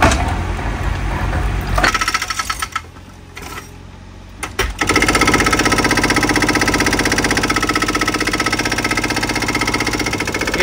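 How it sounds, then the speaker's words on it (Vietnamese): A small excavator's hydraulic breaker hammers through a concrete second-floor roof during demolition. A brief engine lull gives way to loud, continuous rapid pounding with an engine running underneath. "em 30 này sẽ tiến hành đục thủng mái luôn, đục đến đâu được luôn đấy"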